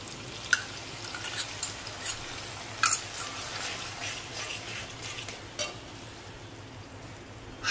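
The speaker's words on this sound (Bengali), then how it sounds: "ওই আগে থেকে বানিয়ে রাখা সর্ষে এবং পোস্তর মিশ্রণটা আবার একবার ভালো করে চামচ দিয়ে নাড়িয়ে ঢেলে দিচ্ছি" A spoon stirs a mustard and poppy seed paste for a Bengali bata fish curry, then pours it into the pan, giving quiet scraping clinks and a few sharp taps over a soft steady sizzle, with no talking.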